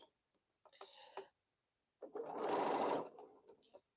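A sewing machine stitching a Crown Royal quilt: a short whirring run, a pause, then a longer, louder buzzing burst of stitching that fades out, with no talk over it.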